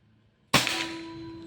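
Quiet background, then a single sharp Pajerogun Gen 5 air rifle shot close by, its crack fading into a metallic ringing that lingers.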